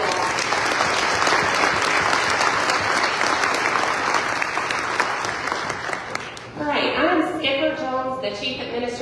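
A big round of audience applause at an agricultural development forum, dense clapping filling most of the stretch before it fades out and a speaker's voice takes over near the end.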